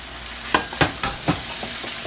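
Vegetables are tossed and stirred in a hot pan, giving a steady sizzle broken by several quick scraping or clattering hits from stirring, close and moderately loud.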